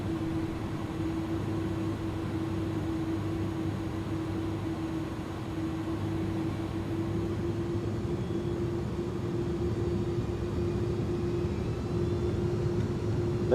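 iniBuilds A300-600F freighter in Microsoft Flight Simulator 2020 taking off, a steady roaring jet drone with a constant engine hum beneath broadband rushing noise, holding level throughout.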